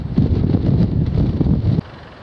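Strong wind buffets the microphone on a steep hillside walk above Whyteleaf in suburban countryside, a loud continuous low roar with gusting swells that cuts off abruptly near the end.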